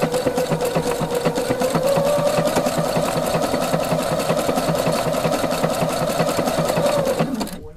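Husqvarna Viking sewing machine running steadily with a Spanish hemstitch foot and the stitch width set to 5.0, a close, loud, even mechanical whir with rapid rhythmic needle clatter that winds down at the end.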